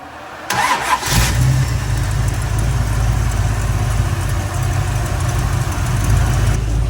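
1960 Ford Fairlane engine cranking to life, then settling into a steady, close, rumbling idle; a light tapping under the running engine is not clearly distinct, with no talk.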